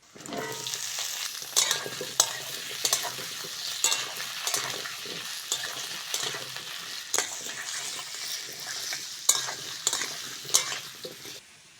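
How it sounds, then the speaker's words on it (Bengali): Potatoes fry in hot oil in a pan as they are stirred for a cauliflower dish, giving a continuous sizzle broken by repeated scraping strokes and clinks of the utensil against the pan. "আলুটা ভালো করে ভেজে নিয়েছি"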